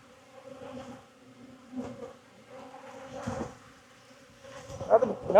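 Honeybees buzzing around an open hive during an October mite check at an apiary in Jacksonville, Florida, with faint, close wing hums that rise and fall in several short swells, growing louder near the end.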